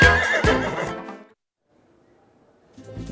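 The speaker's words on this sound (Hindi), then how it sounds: "तो भैया पद्मावती घोड़ी बहुत डिमांड में है" A mare booked out for weddings whinnies loudly and close in a rising, shaking call lasting about a second, then falls quiet before a fainter second whinny starts at the end.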